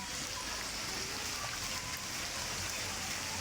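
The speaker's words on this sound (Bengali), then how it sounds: "এখনও বৃষ্টি হচ্ছেই" Heavy rain pours steadily outside a house, a dense, even hiss of drops on surfaces and running water, continuous and fairly loud with no one talking.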